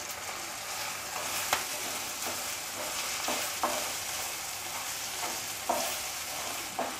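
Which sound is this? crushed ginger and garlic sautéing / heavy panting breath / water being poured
crushed ginger and garlic sautéing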